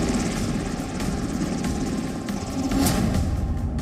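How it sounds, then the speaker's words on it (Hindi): Steady loud rotor and engine roar of a UH-60 Black Hawk military helicopter, continuous throughout with a faint rhythmic beat and no speech. "33 UH-60 ब्लैक हॉक हेलीकॉप्टर"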